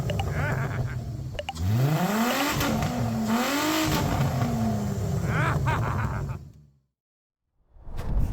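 An old Detroit 671 diesel engine that had sat unused for more than ten years cranks into life. It gives loud rising and falling revs, then cuts out briefly before sounding again.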